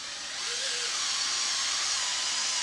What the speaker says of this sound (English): And I'm going to do that with my step drill.